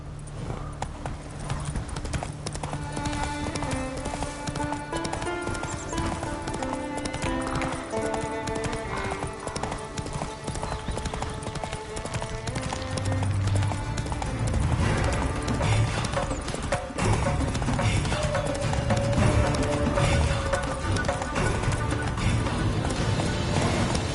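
A horse gallops in The Witcher 3 on PS5 with a steady, rapid clip-clop of hooves over a continuous musical score, a whinny rising briefly partway through.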